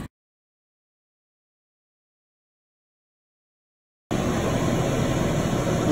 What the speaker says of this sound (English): the air conditioner is running